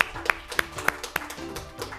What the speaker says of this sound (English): a nice round of applause for that Capitol Heights team